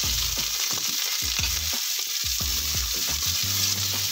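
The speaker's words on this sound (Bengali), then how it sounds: "আর এবার দিয়ে দেব কুচিয়ে রাখা পেঁয়াজ।" Chopped onions sizzle loudly in hot oil in a wok, with repeated scraping stirs of a spatula against the pan, close and continuous.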